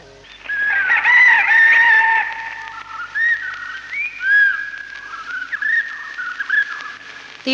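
A rooster crows several times in a row, shrill and drawn out, the first call loudest and nearest, later calls shorter and broken, set alone against a quiet background.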